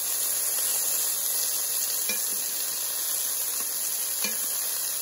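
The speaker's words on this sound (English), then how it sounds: "searing it to seal in all the juices there" Chicken seasoned with turmeric sears in a hot pan, giving a steady, bright sizzle broken by a few light clicks of a utensil against the pan.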